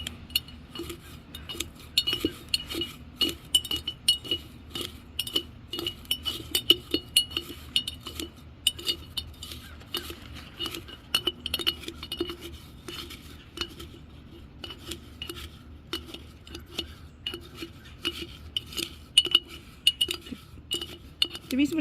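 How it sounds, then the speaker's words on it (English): Dried tea leaves chopped with a knife on a board in an outdoor kitchen, giving a steady run of quick, sharp, close-up taps and clicks throughout with no talk. "Just keep chopping it up."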